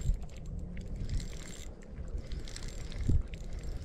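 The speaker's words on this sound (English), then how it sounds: "This wind just picked up." Gusting wind at a fishing spot in the Black Hills while trout fishing, a steady broadband rush buffeting the microphone with louder gusts near the start and end, no talking.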